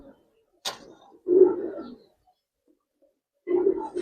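Racing high-flyer Giribaz pigeons coo nearby in two low, throaty bursts separated by a pause, with a brief sharp flutter or knock just before the first.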